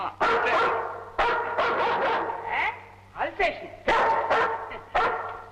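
A dog in a Tamil comedy film scene barks loudly and close by in a string of sharp barks with short gaps, some ending in yelping whines.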